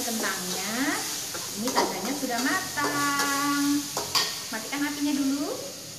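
Potatoes for sambal goreng kentang sizzle in a pan while being stirred, a loud, close frying hiss broken by scraping stirs, with a voice faintly audible underneath.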